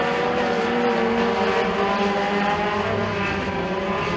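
Mini stock race cars roar together at Freedom Motorsports Park, several engines overlapping in a loud, sustained, droning whine as they battle side by side, with no talk over it.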